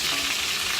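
Goat meat browning in a pan for curried goat gives off a steady, dense sizzle and crackle of frying fat, close and continuous with no pauses.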